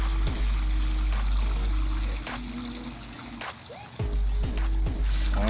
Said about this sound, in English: I'm gonna pour some of this water out.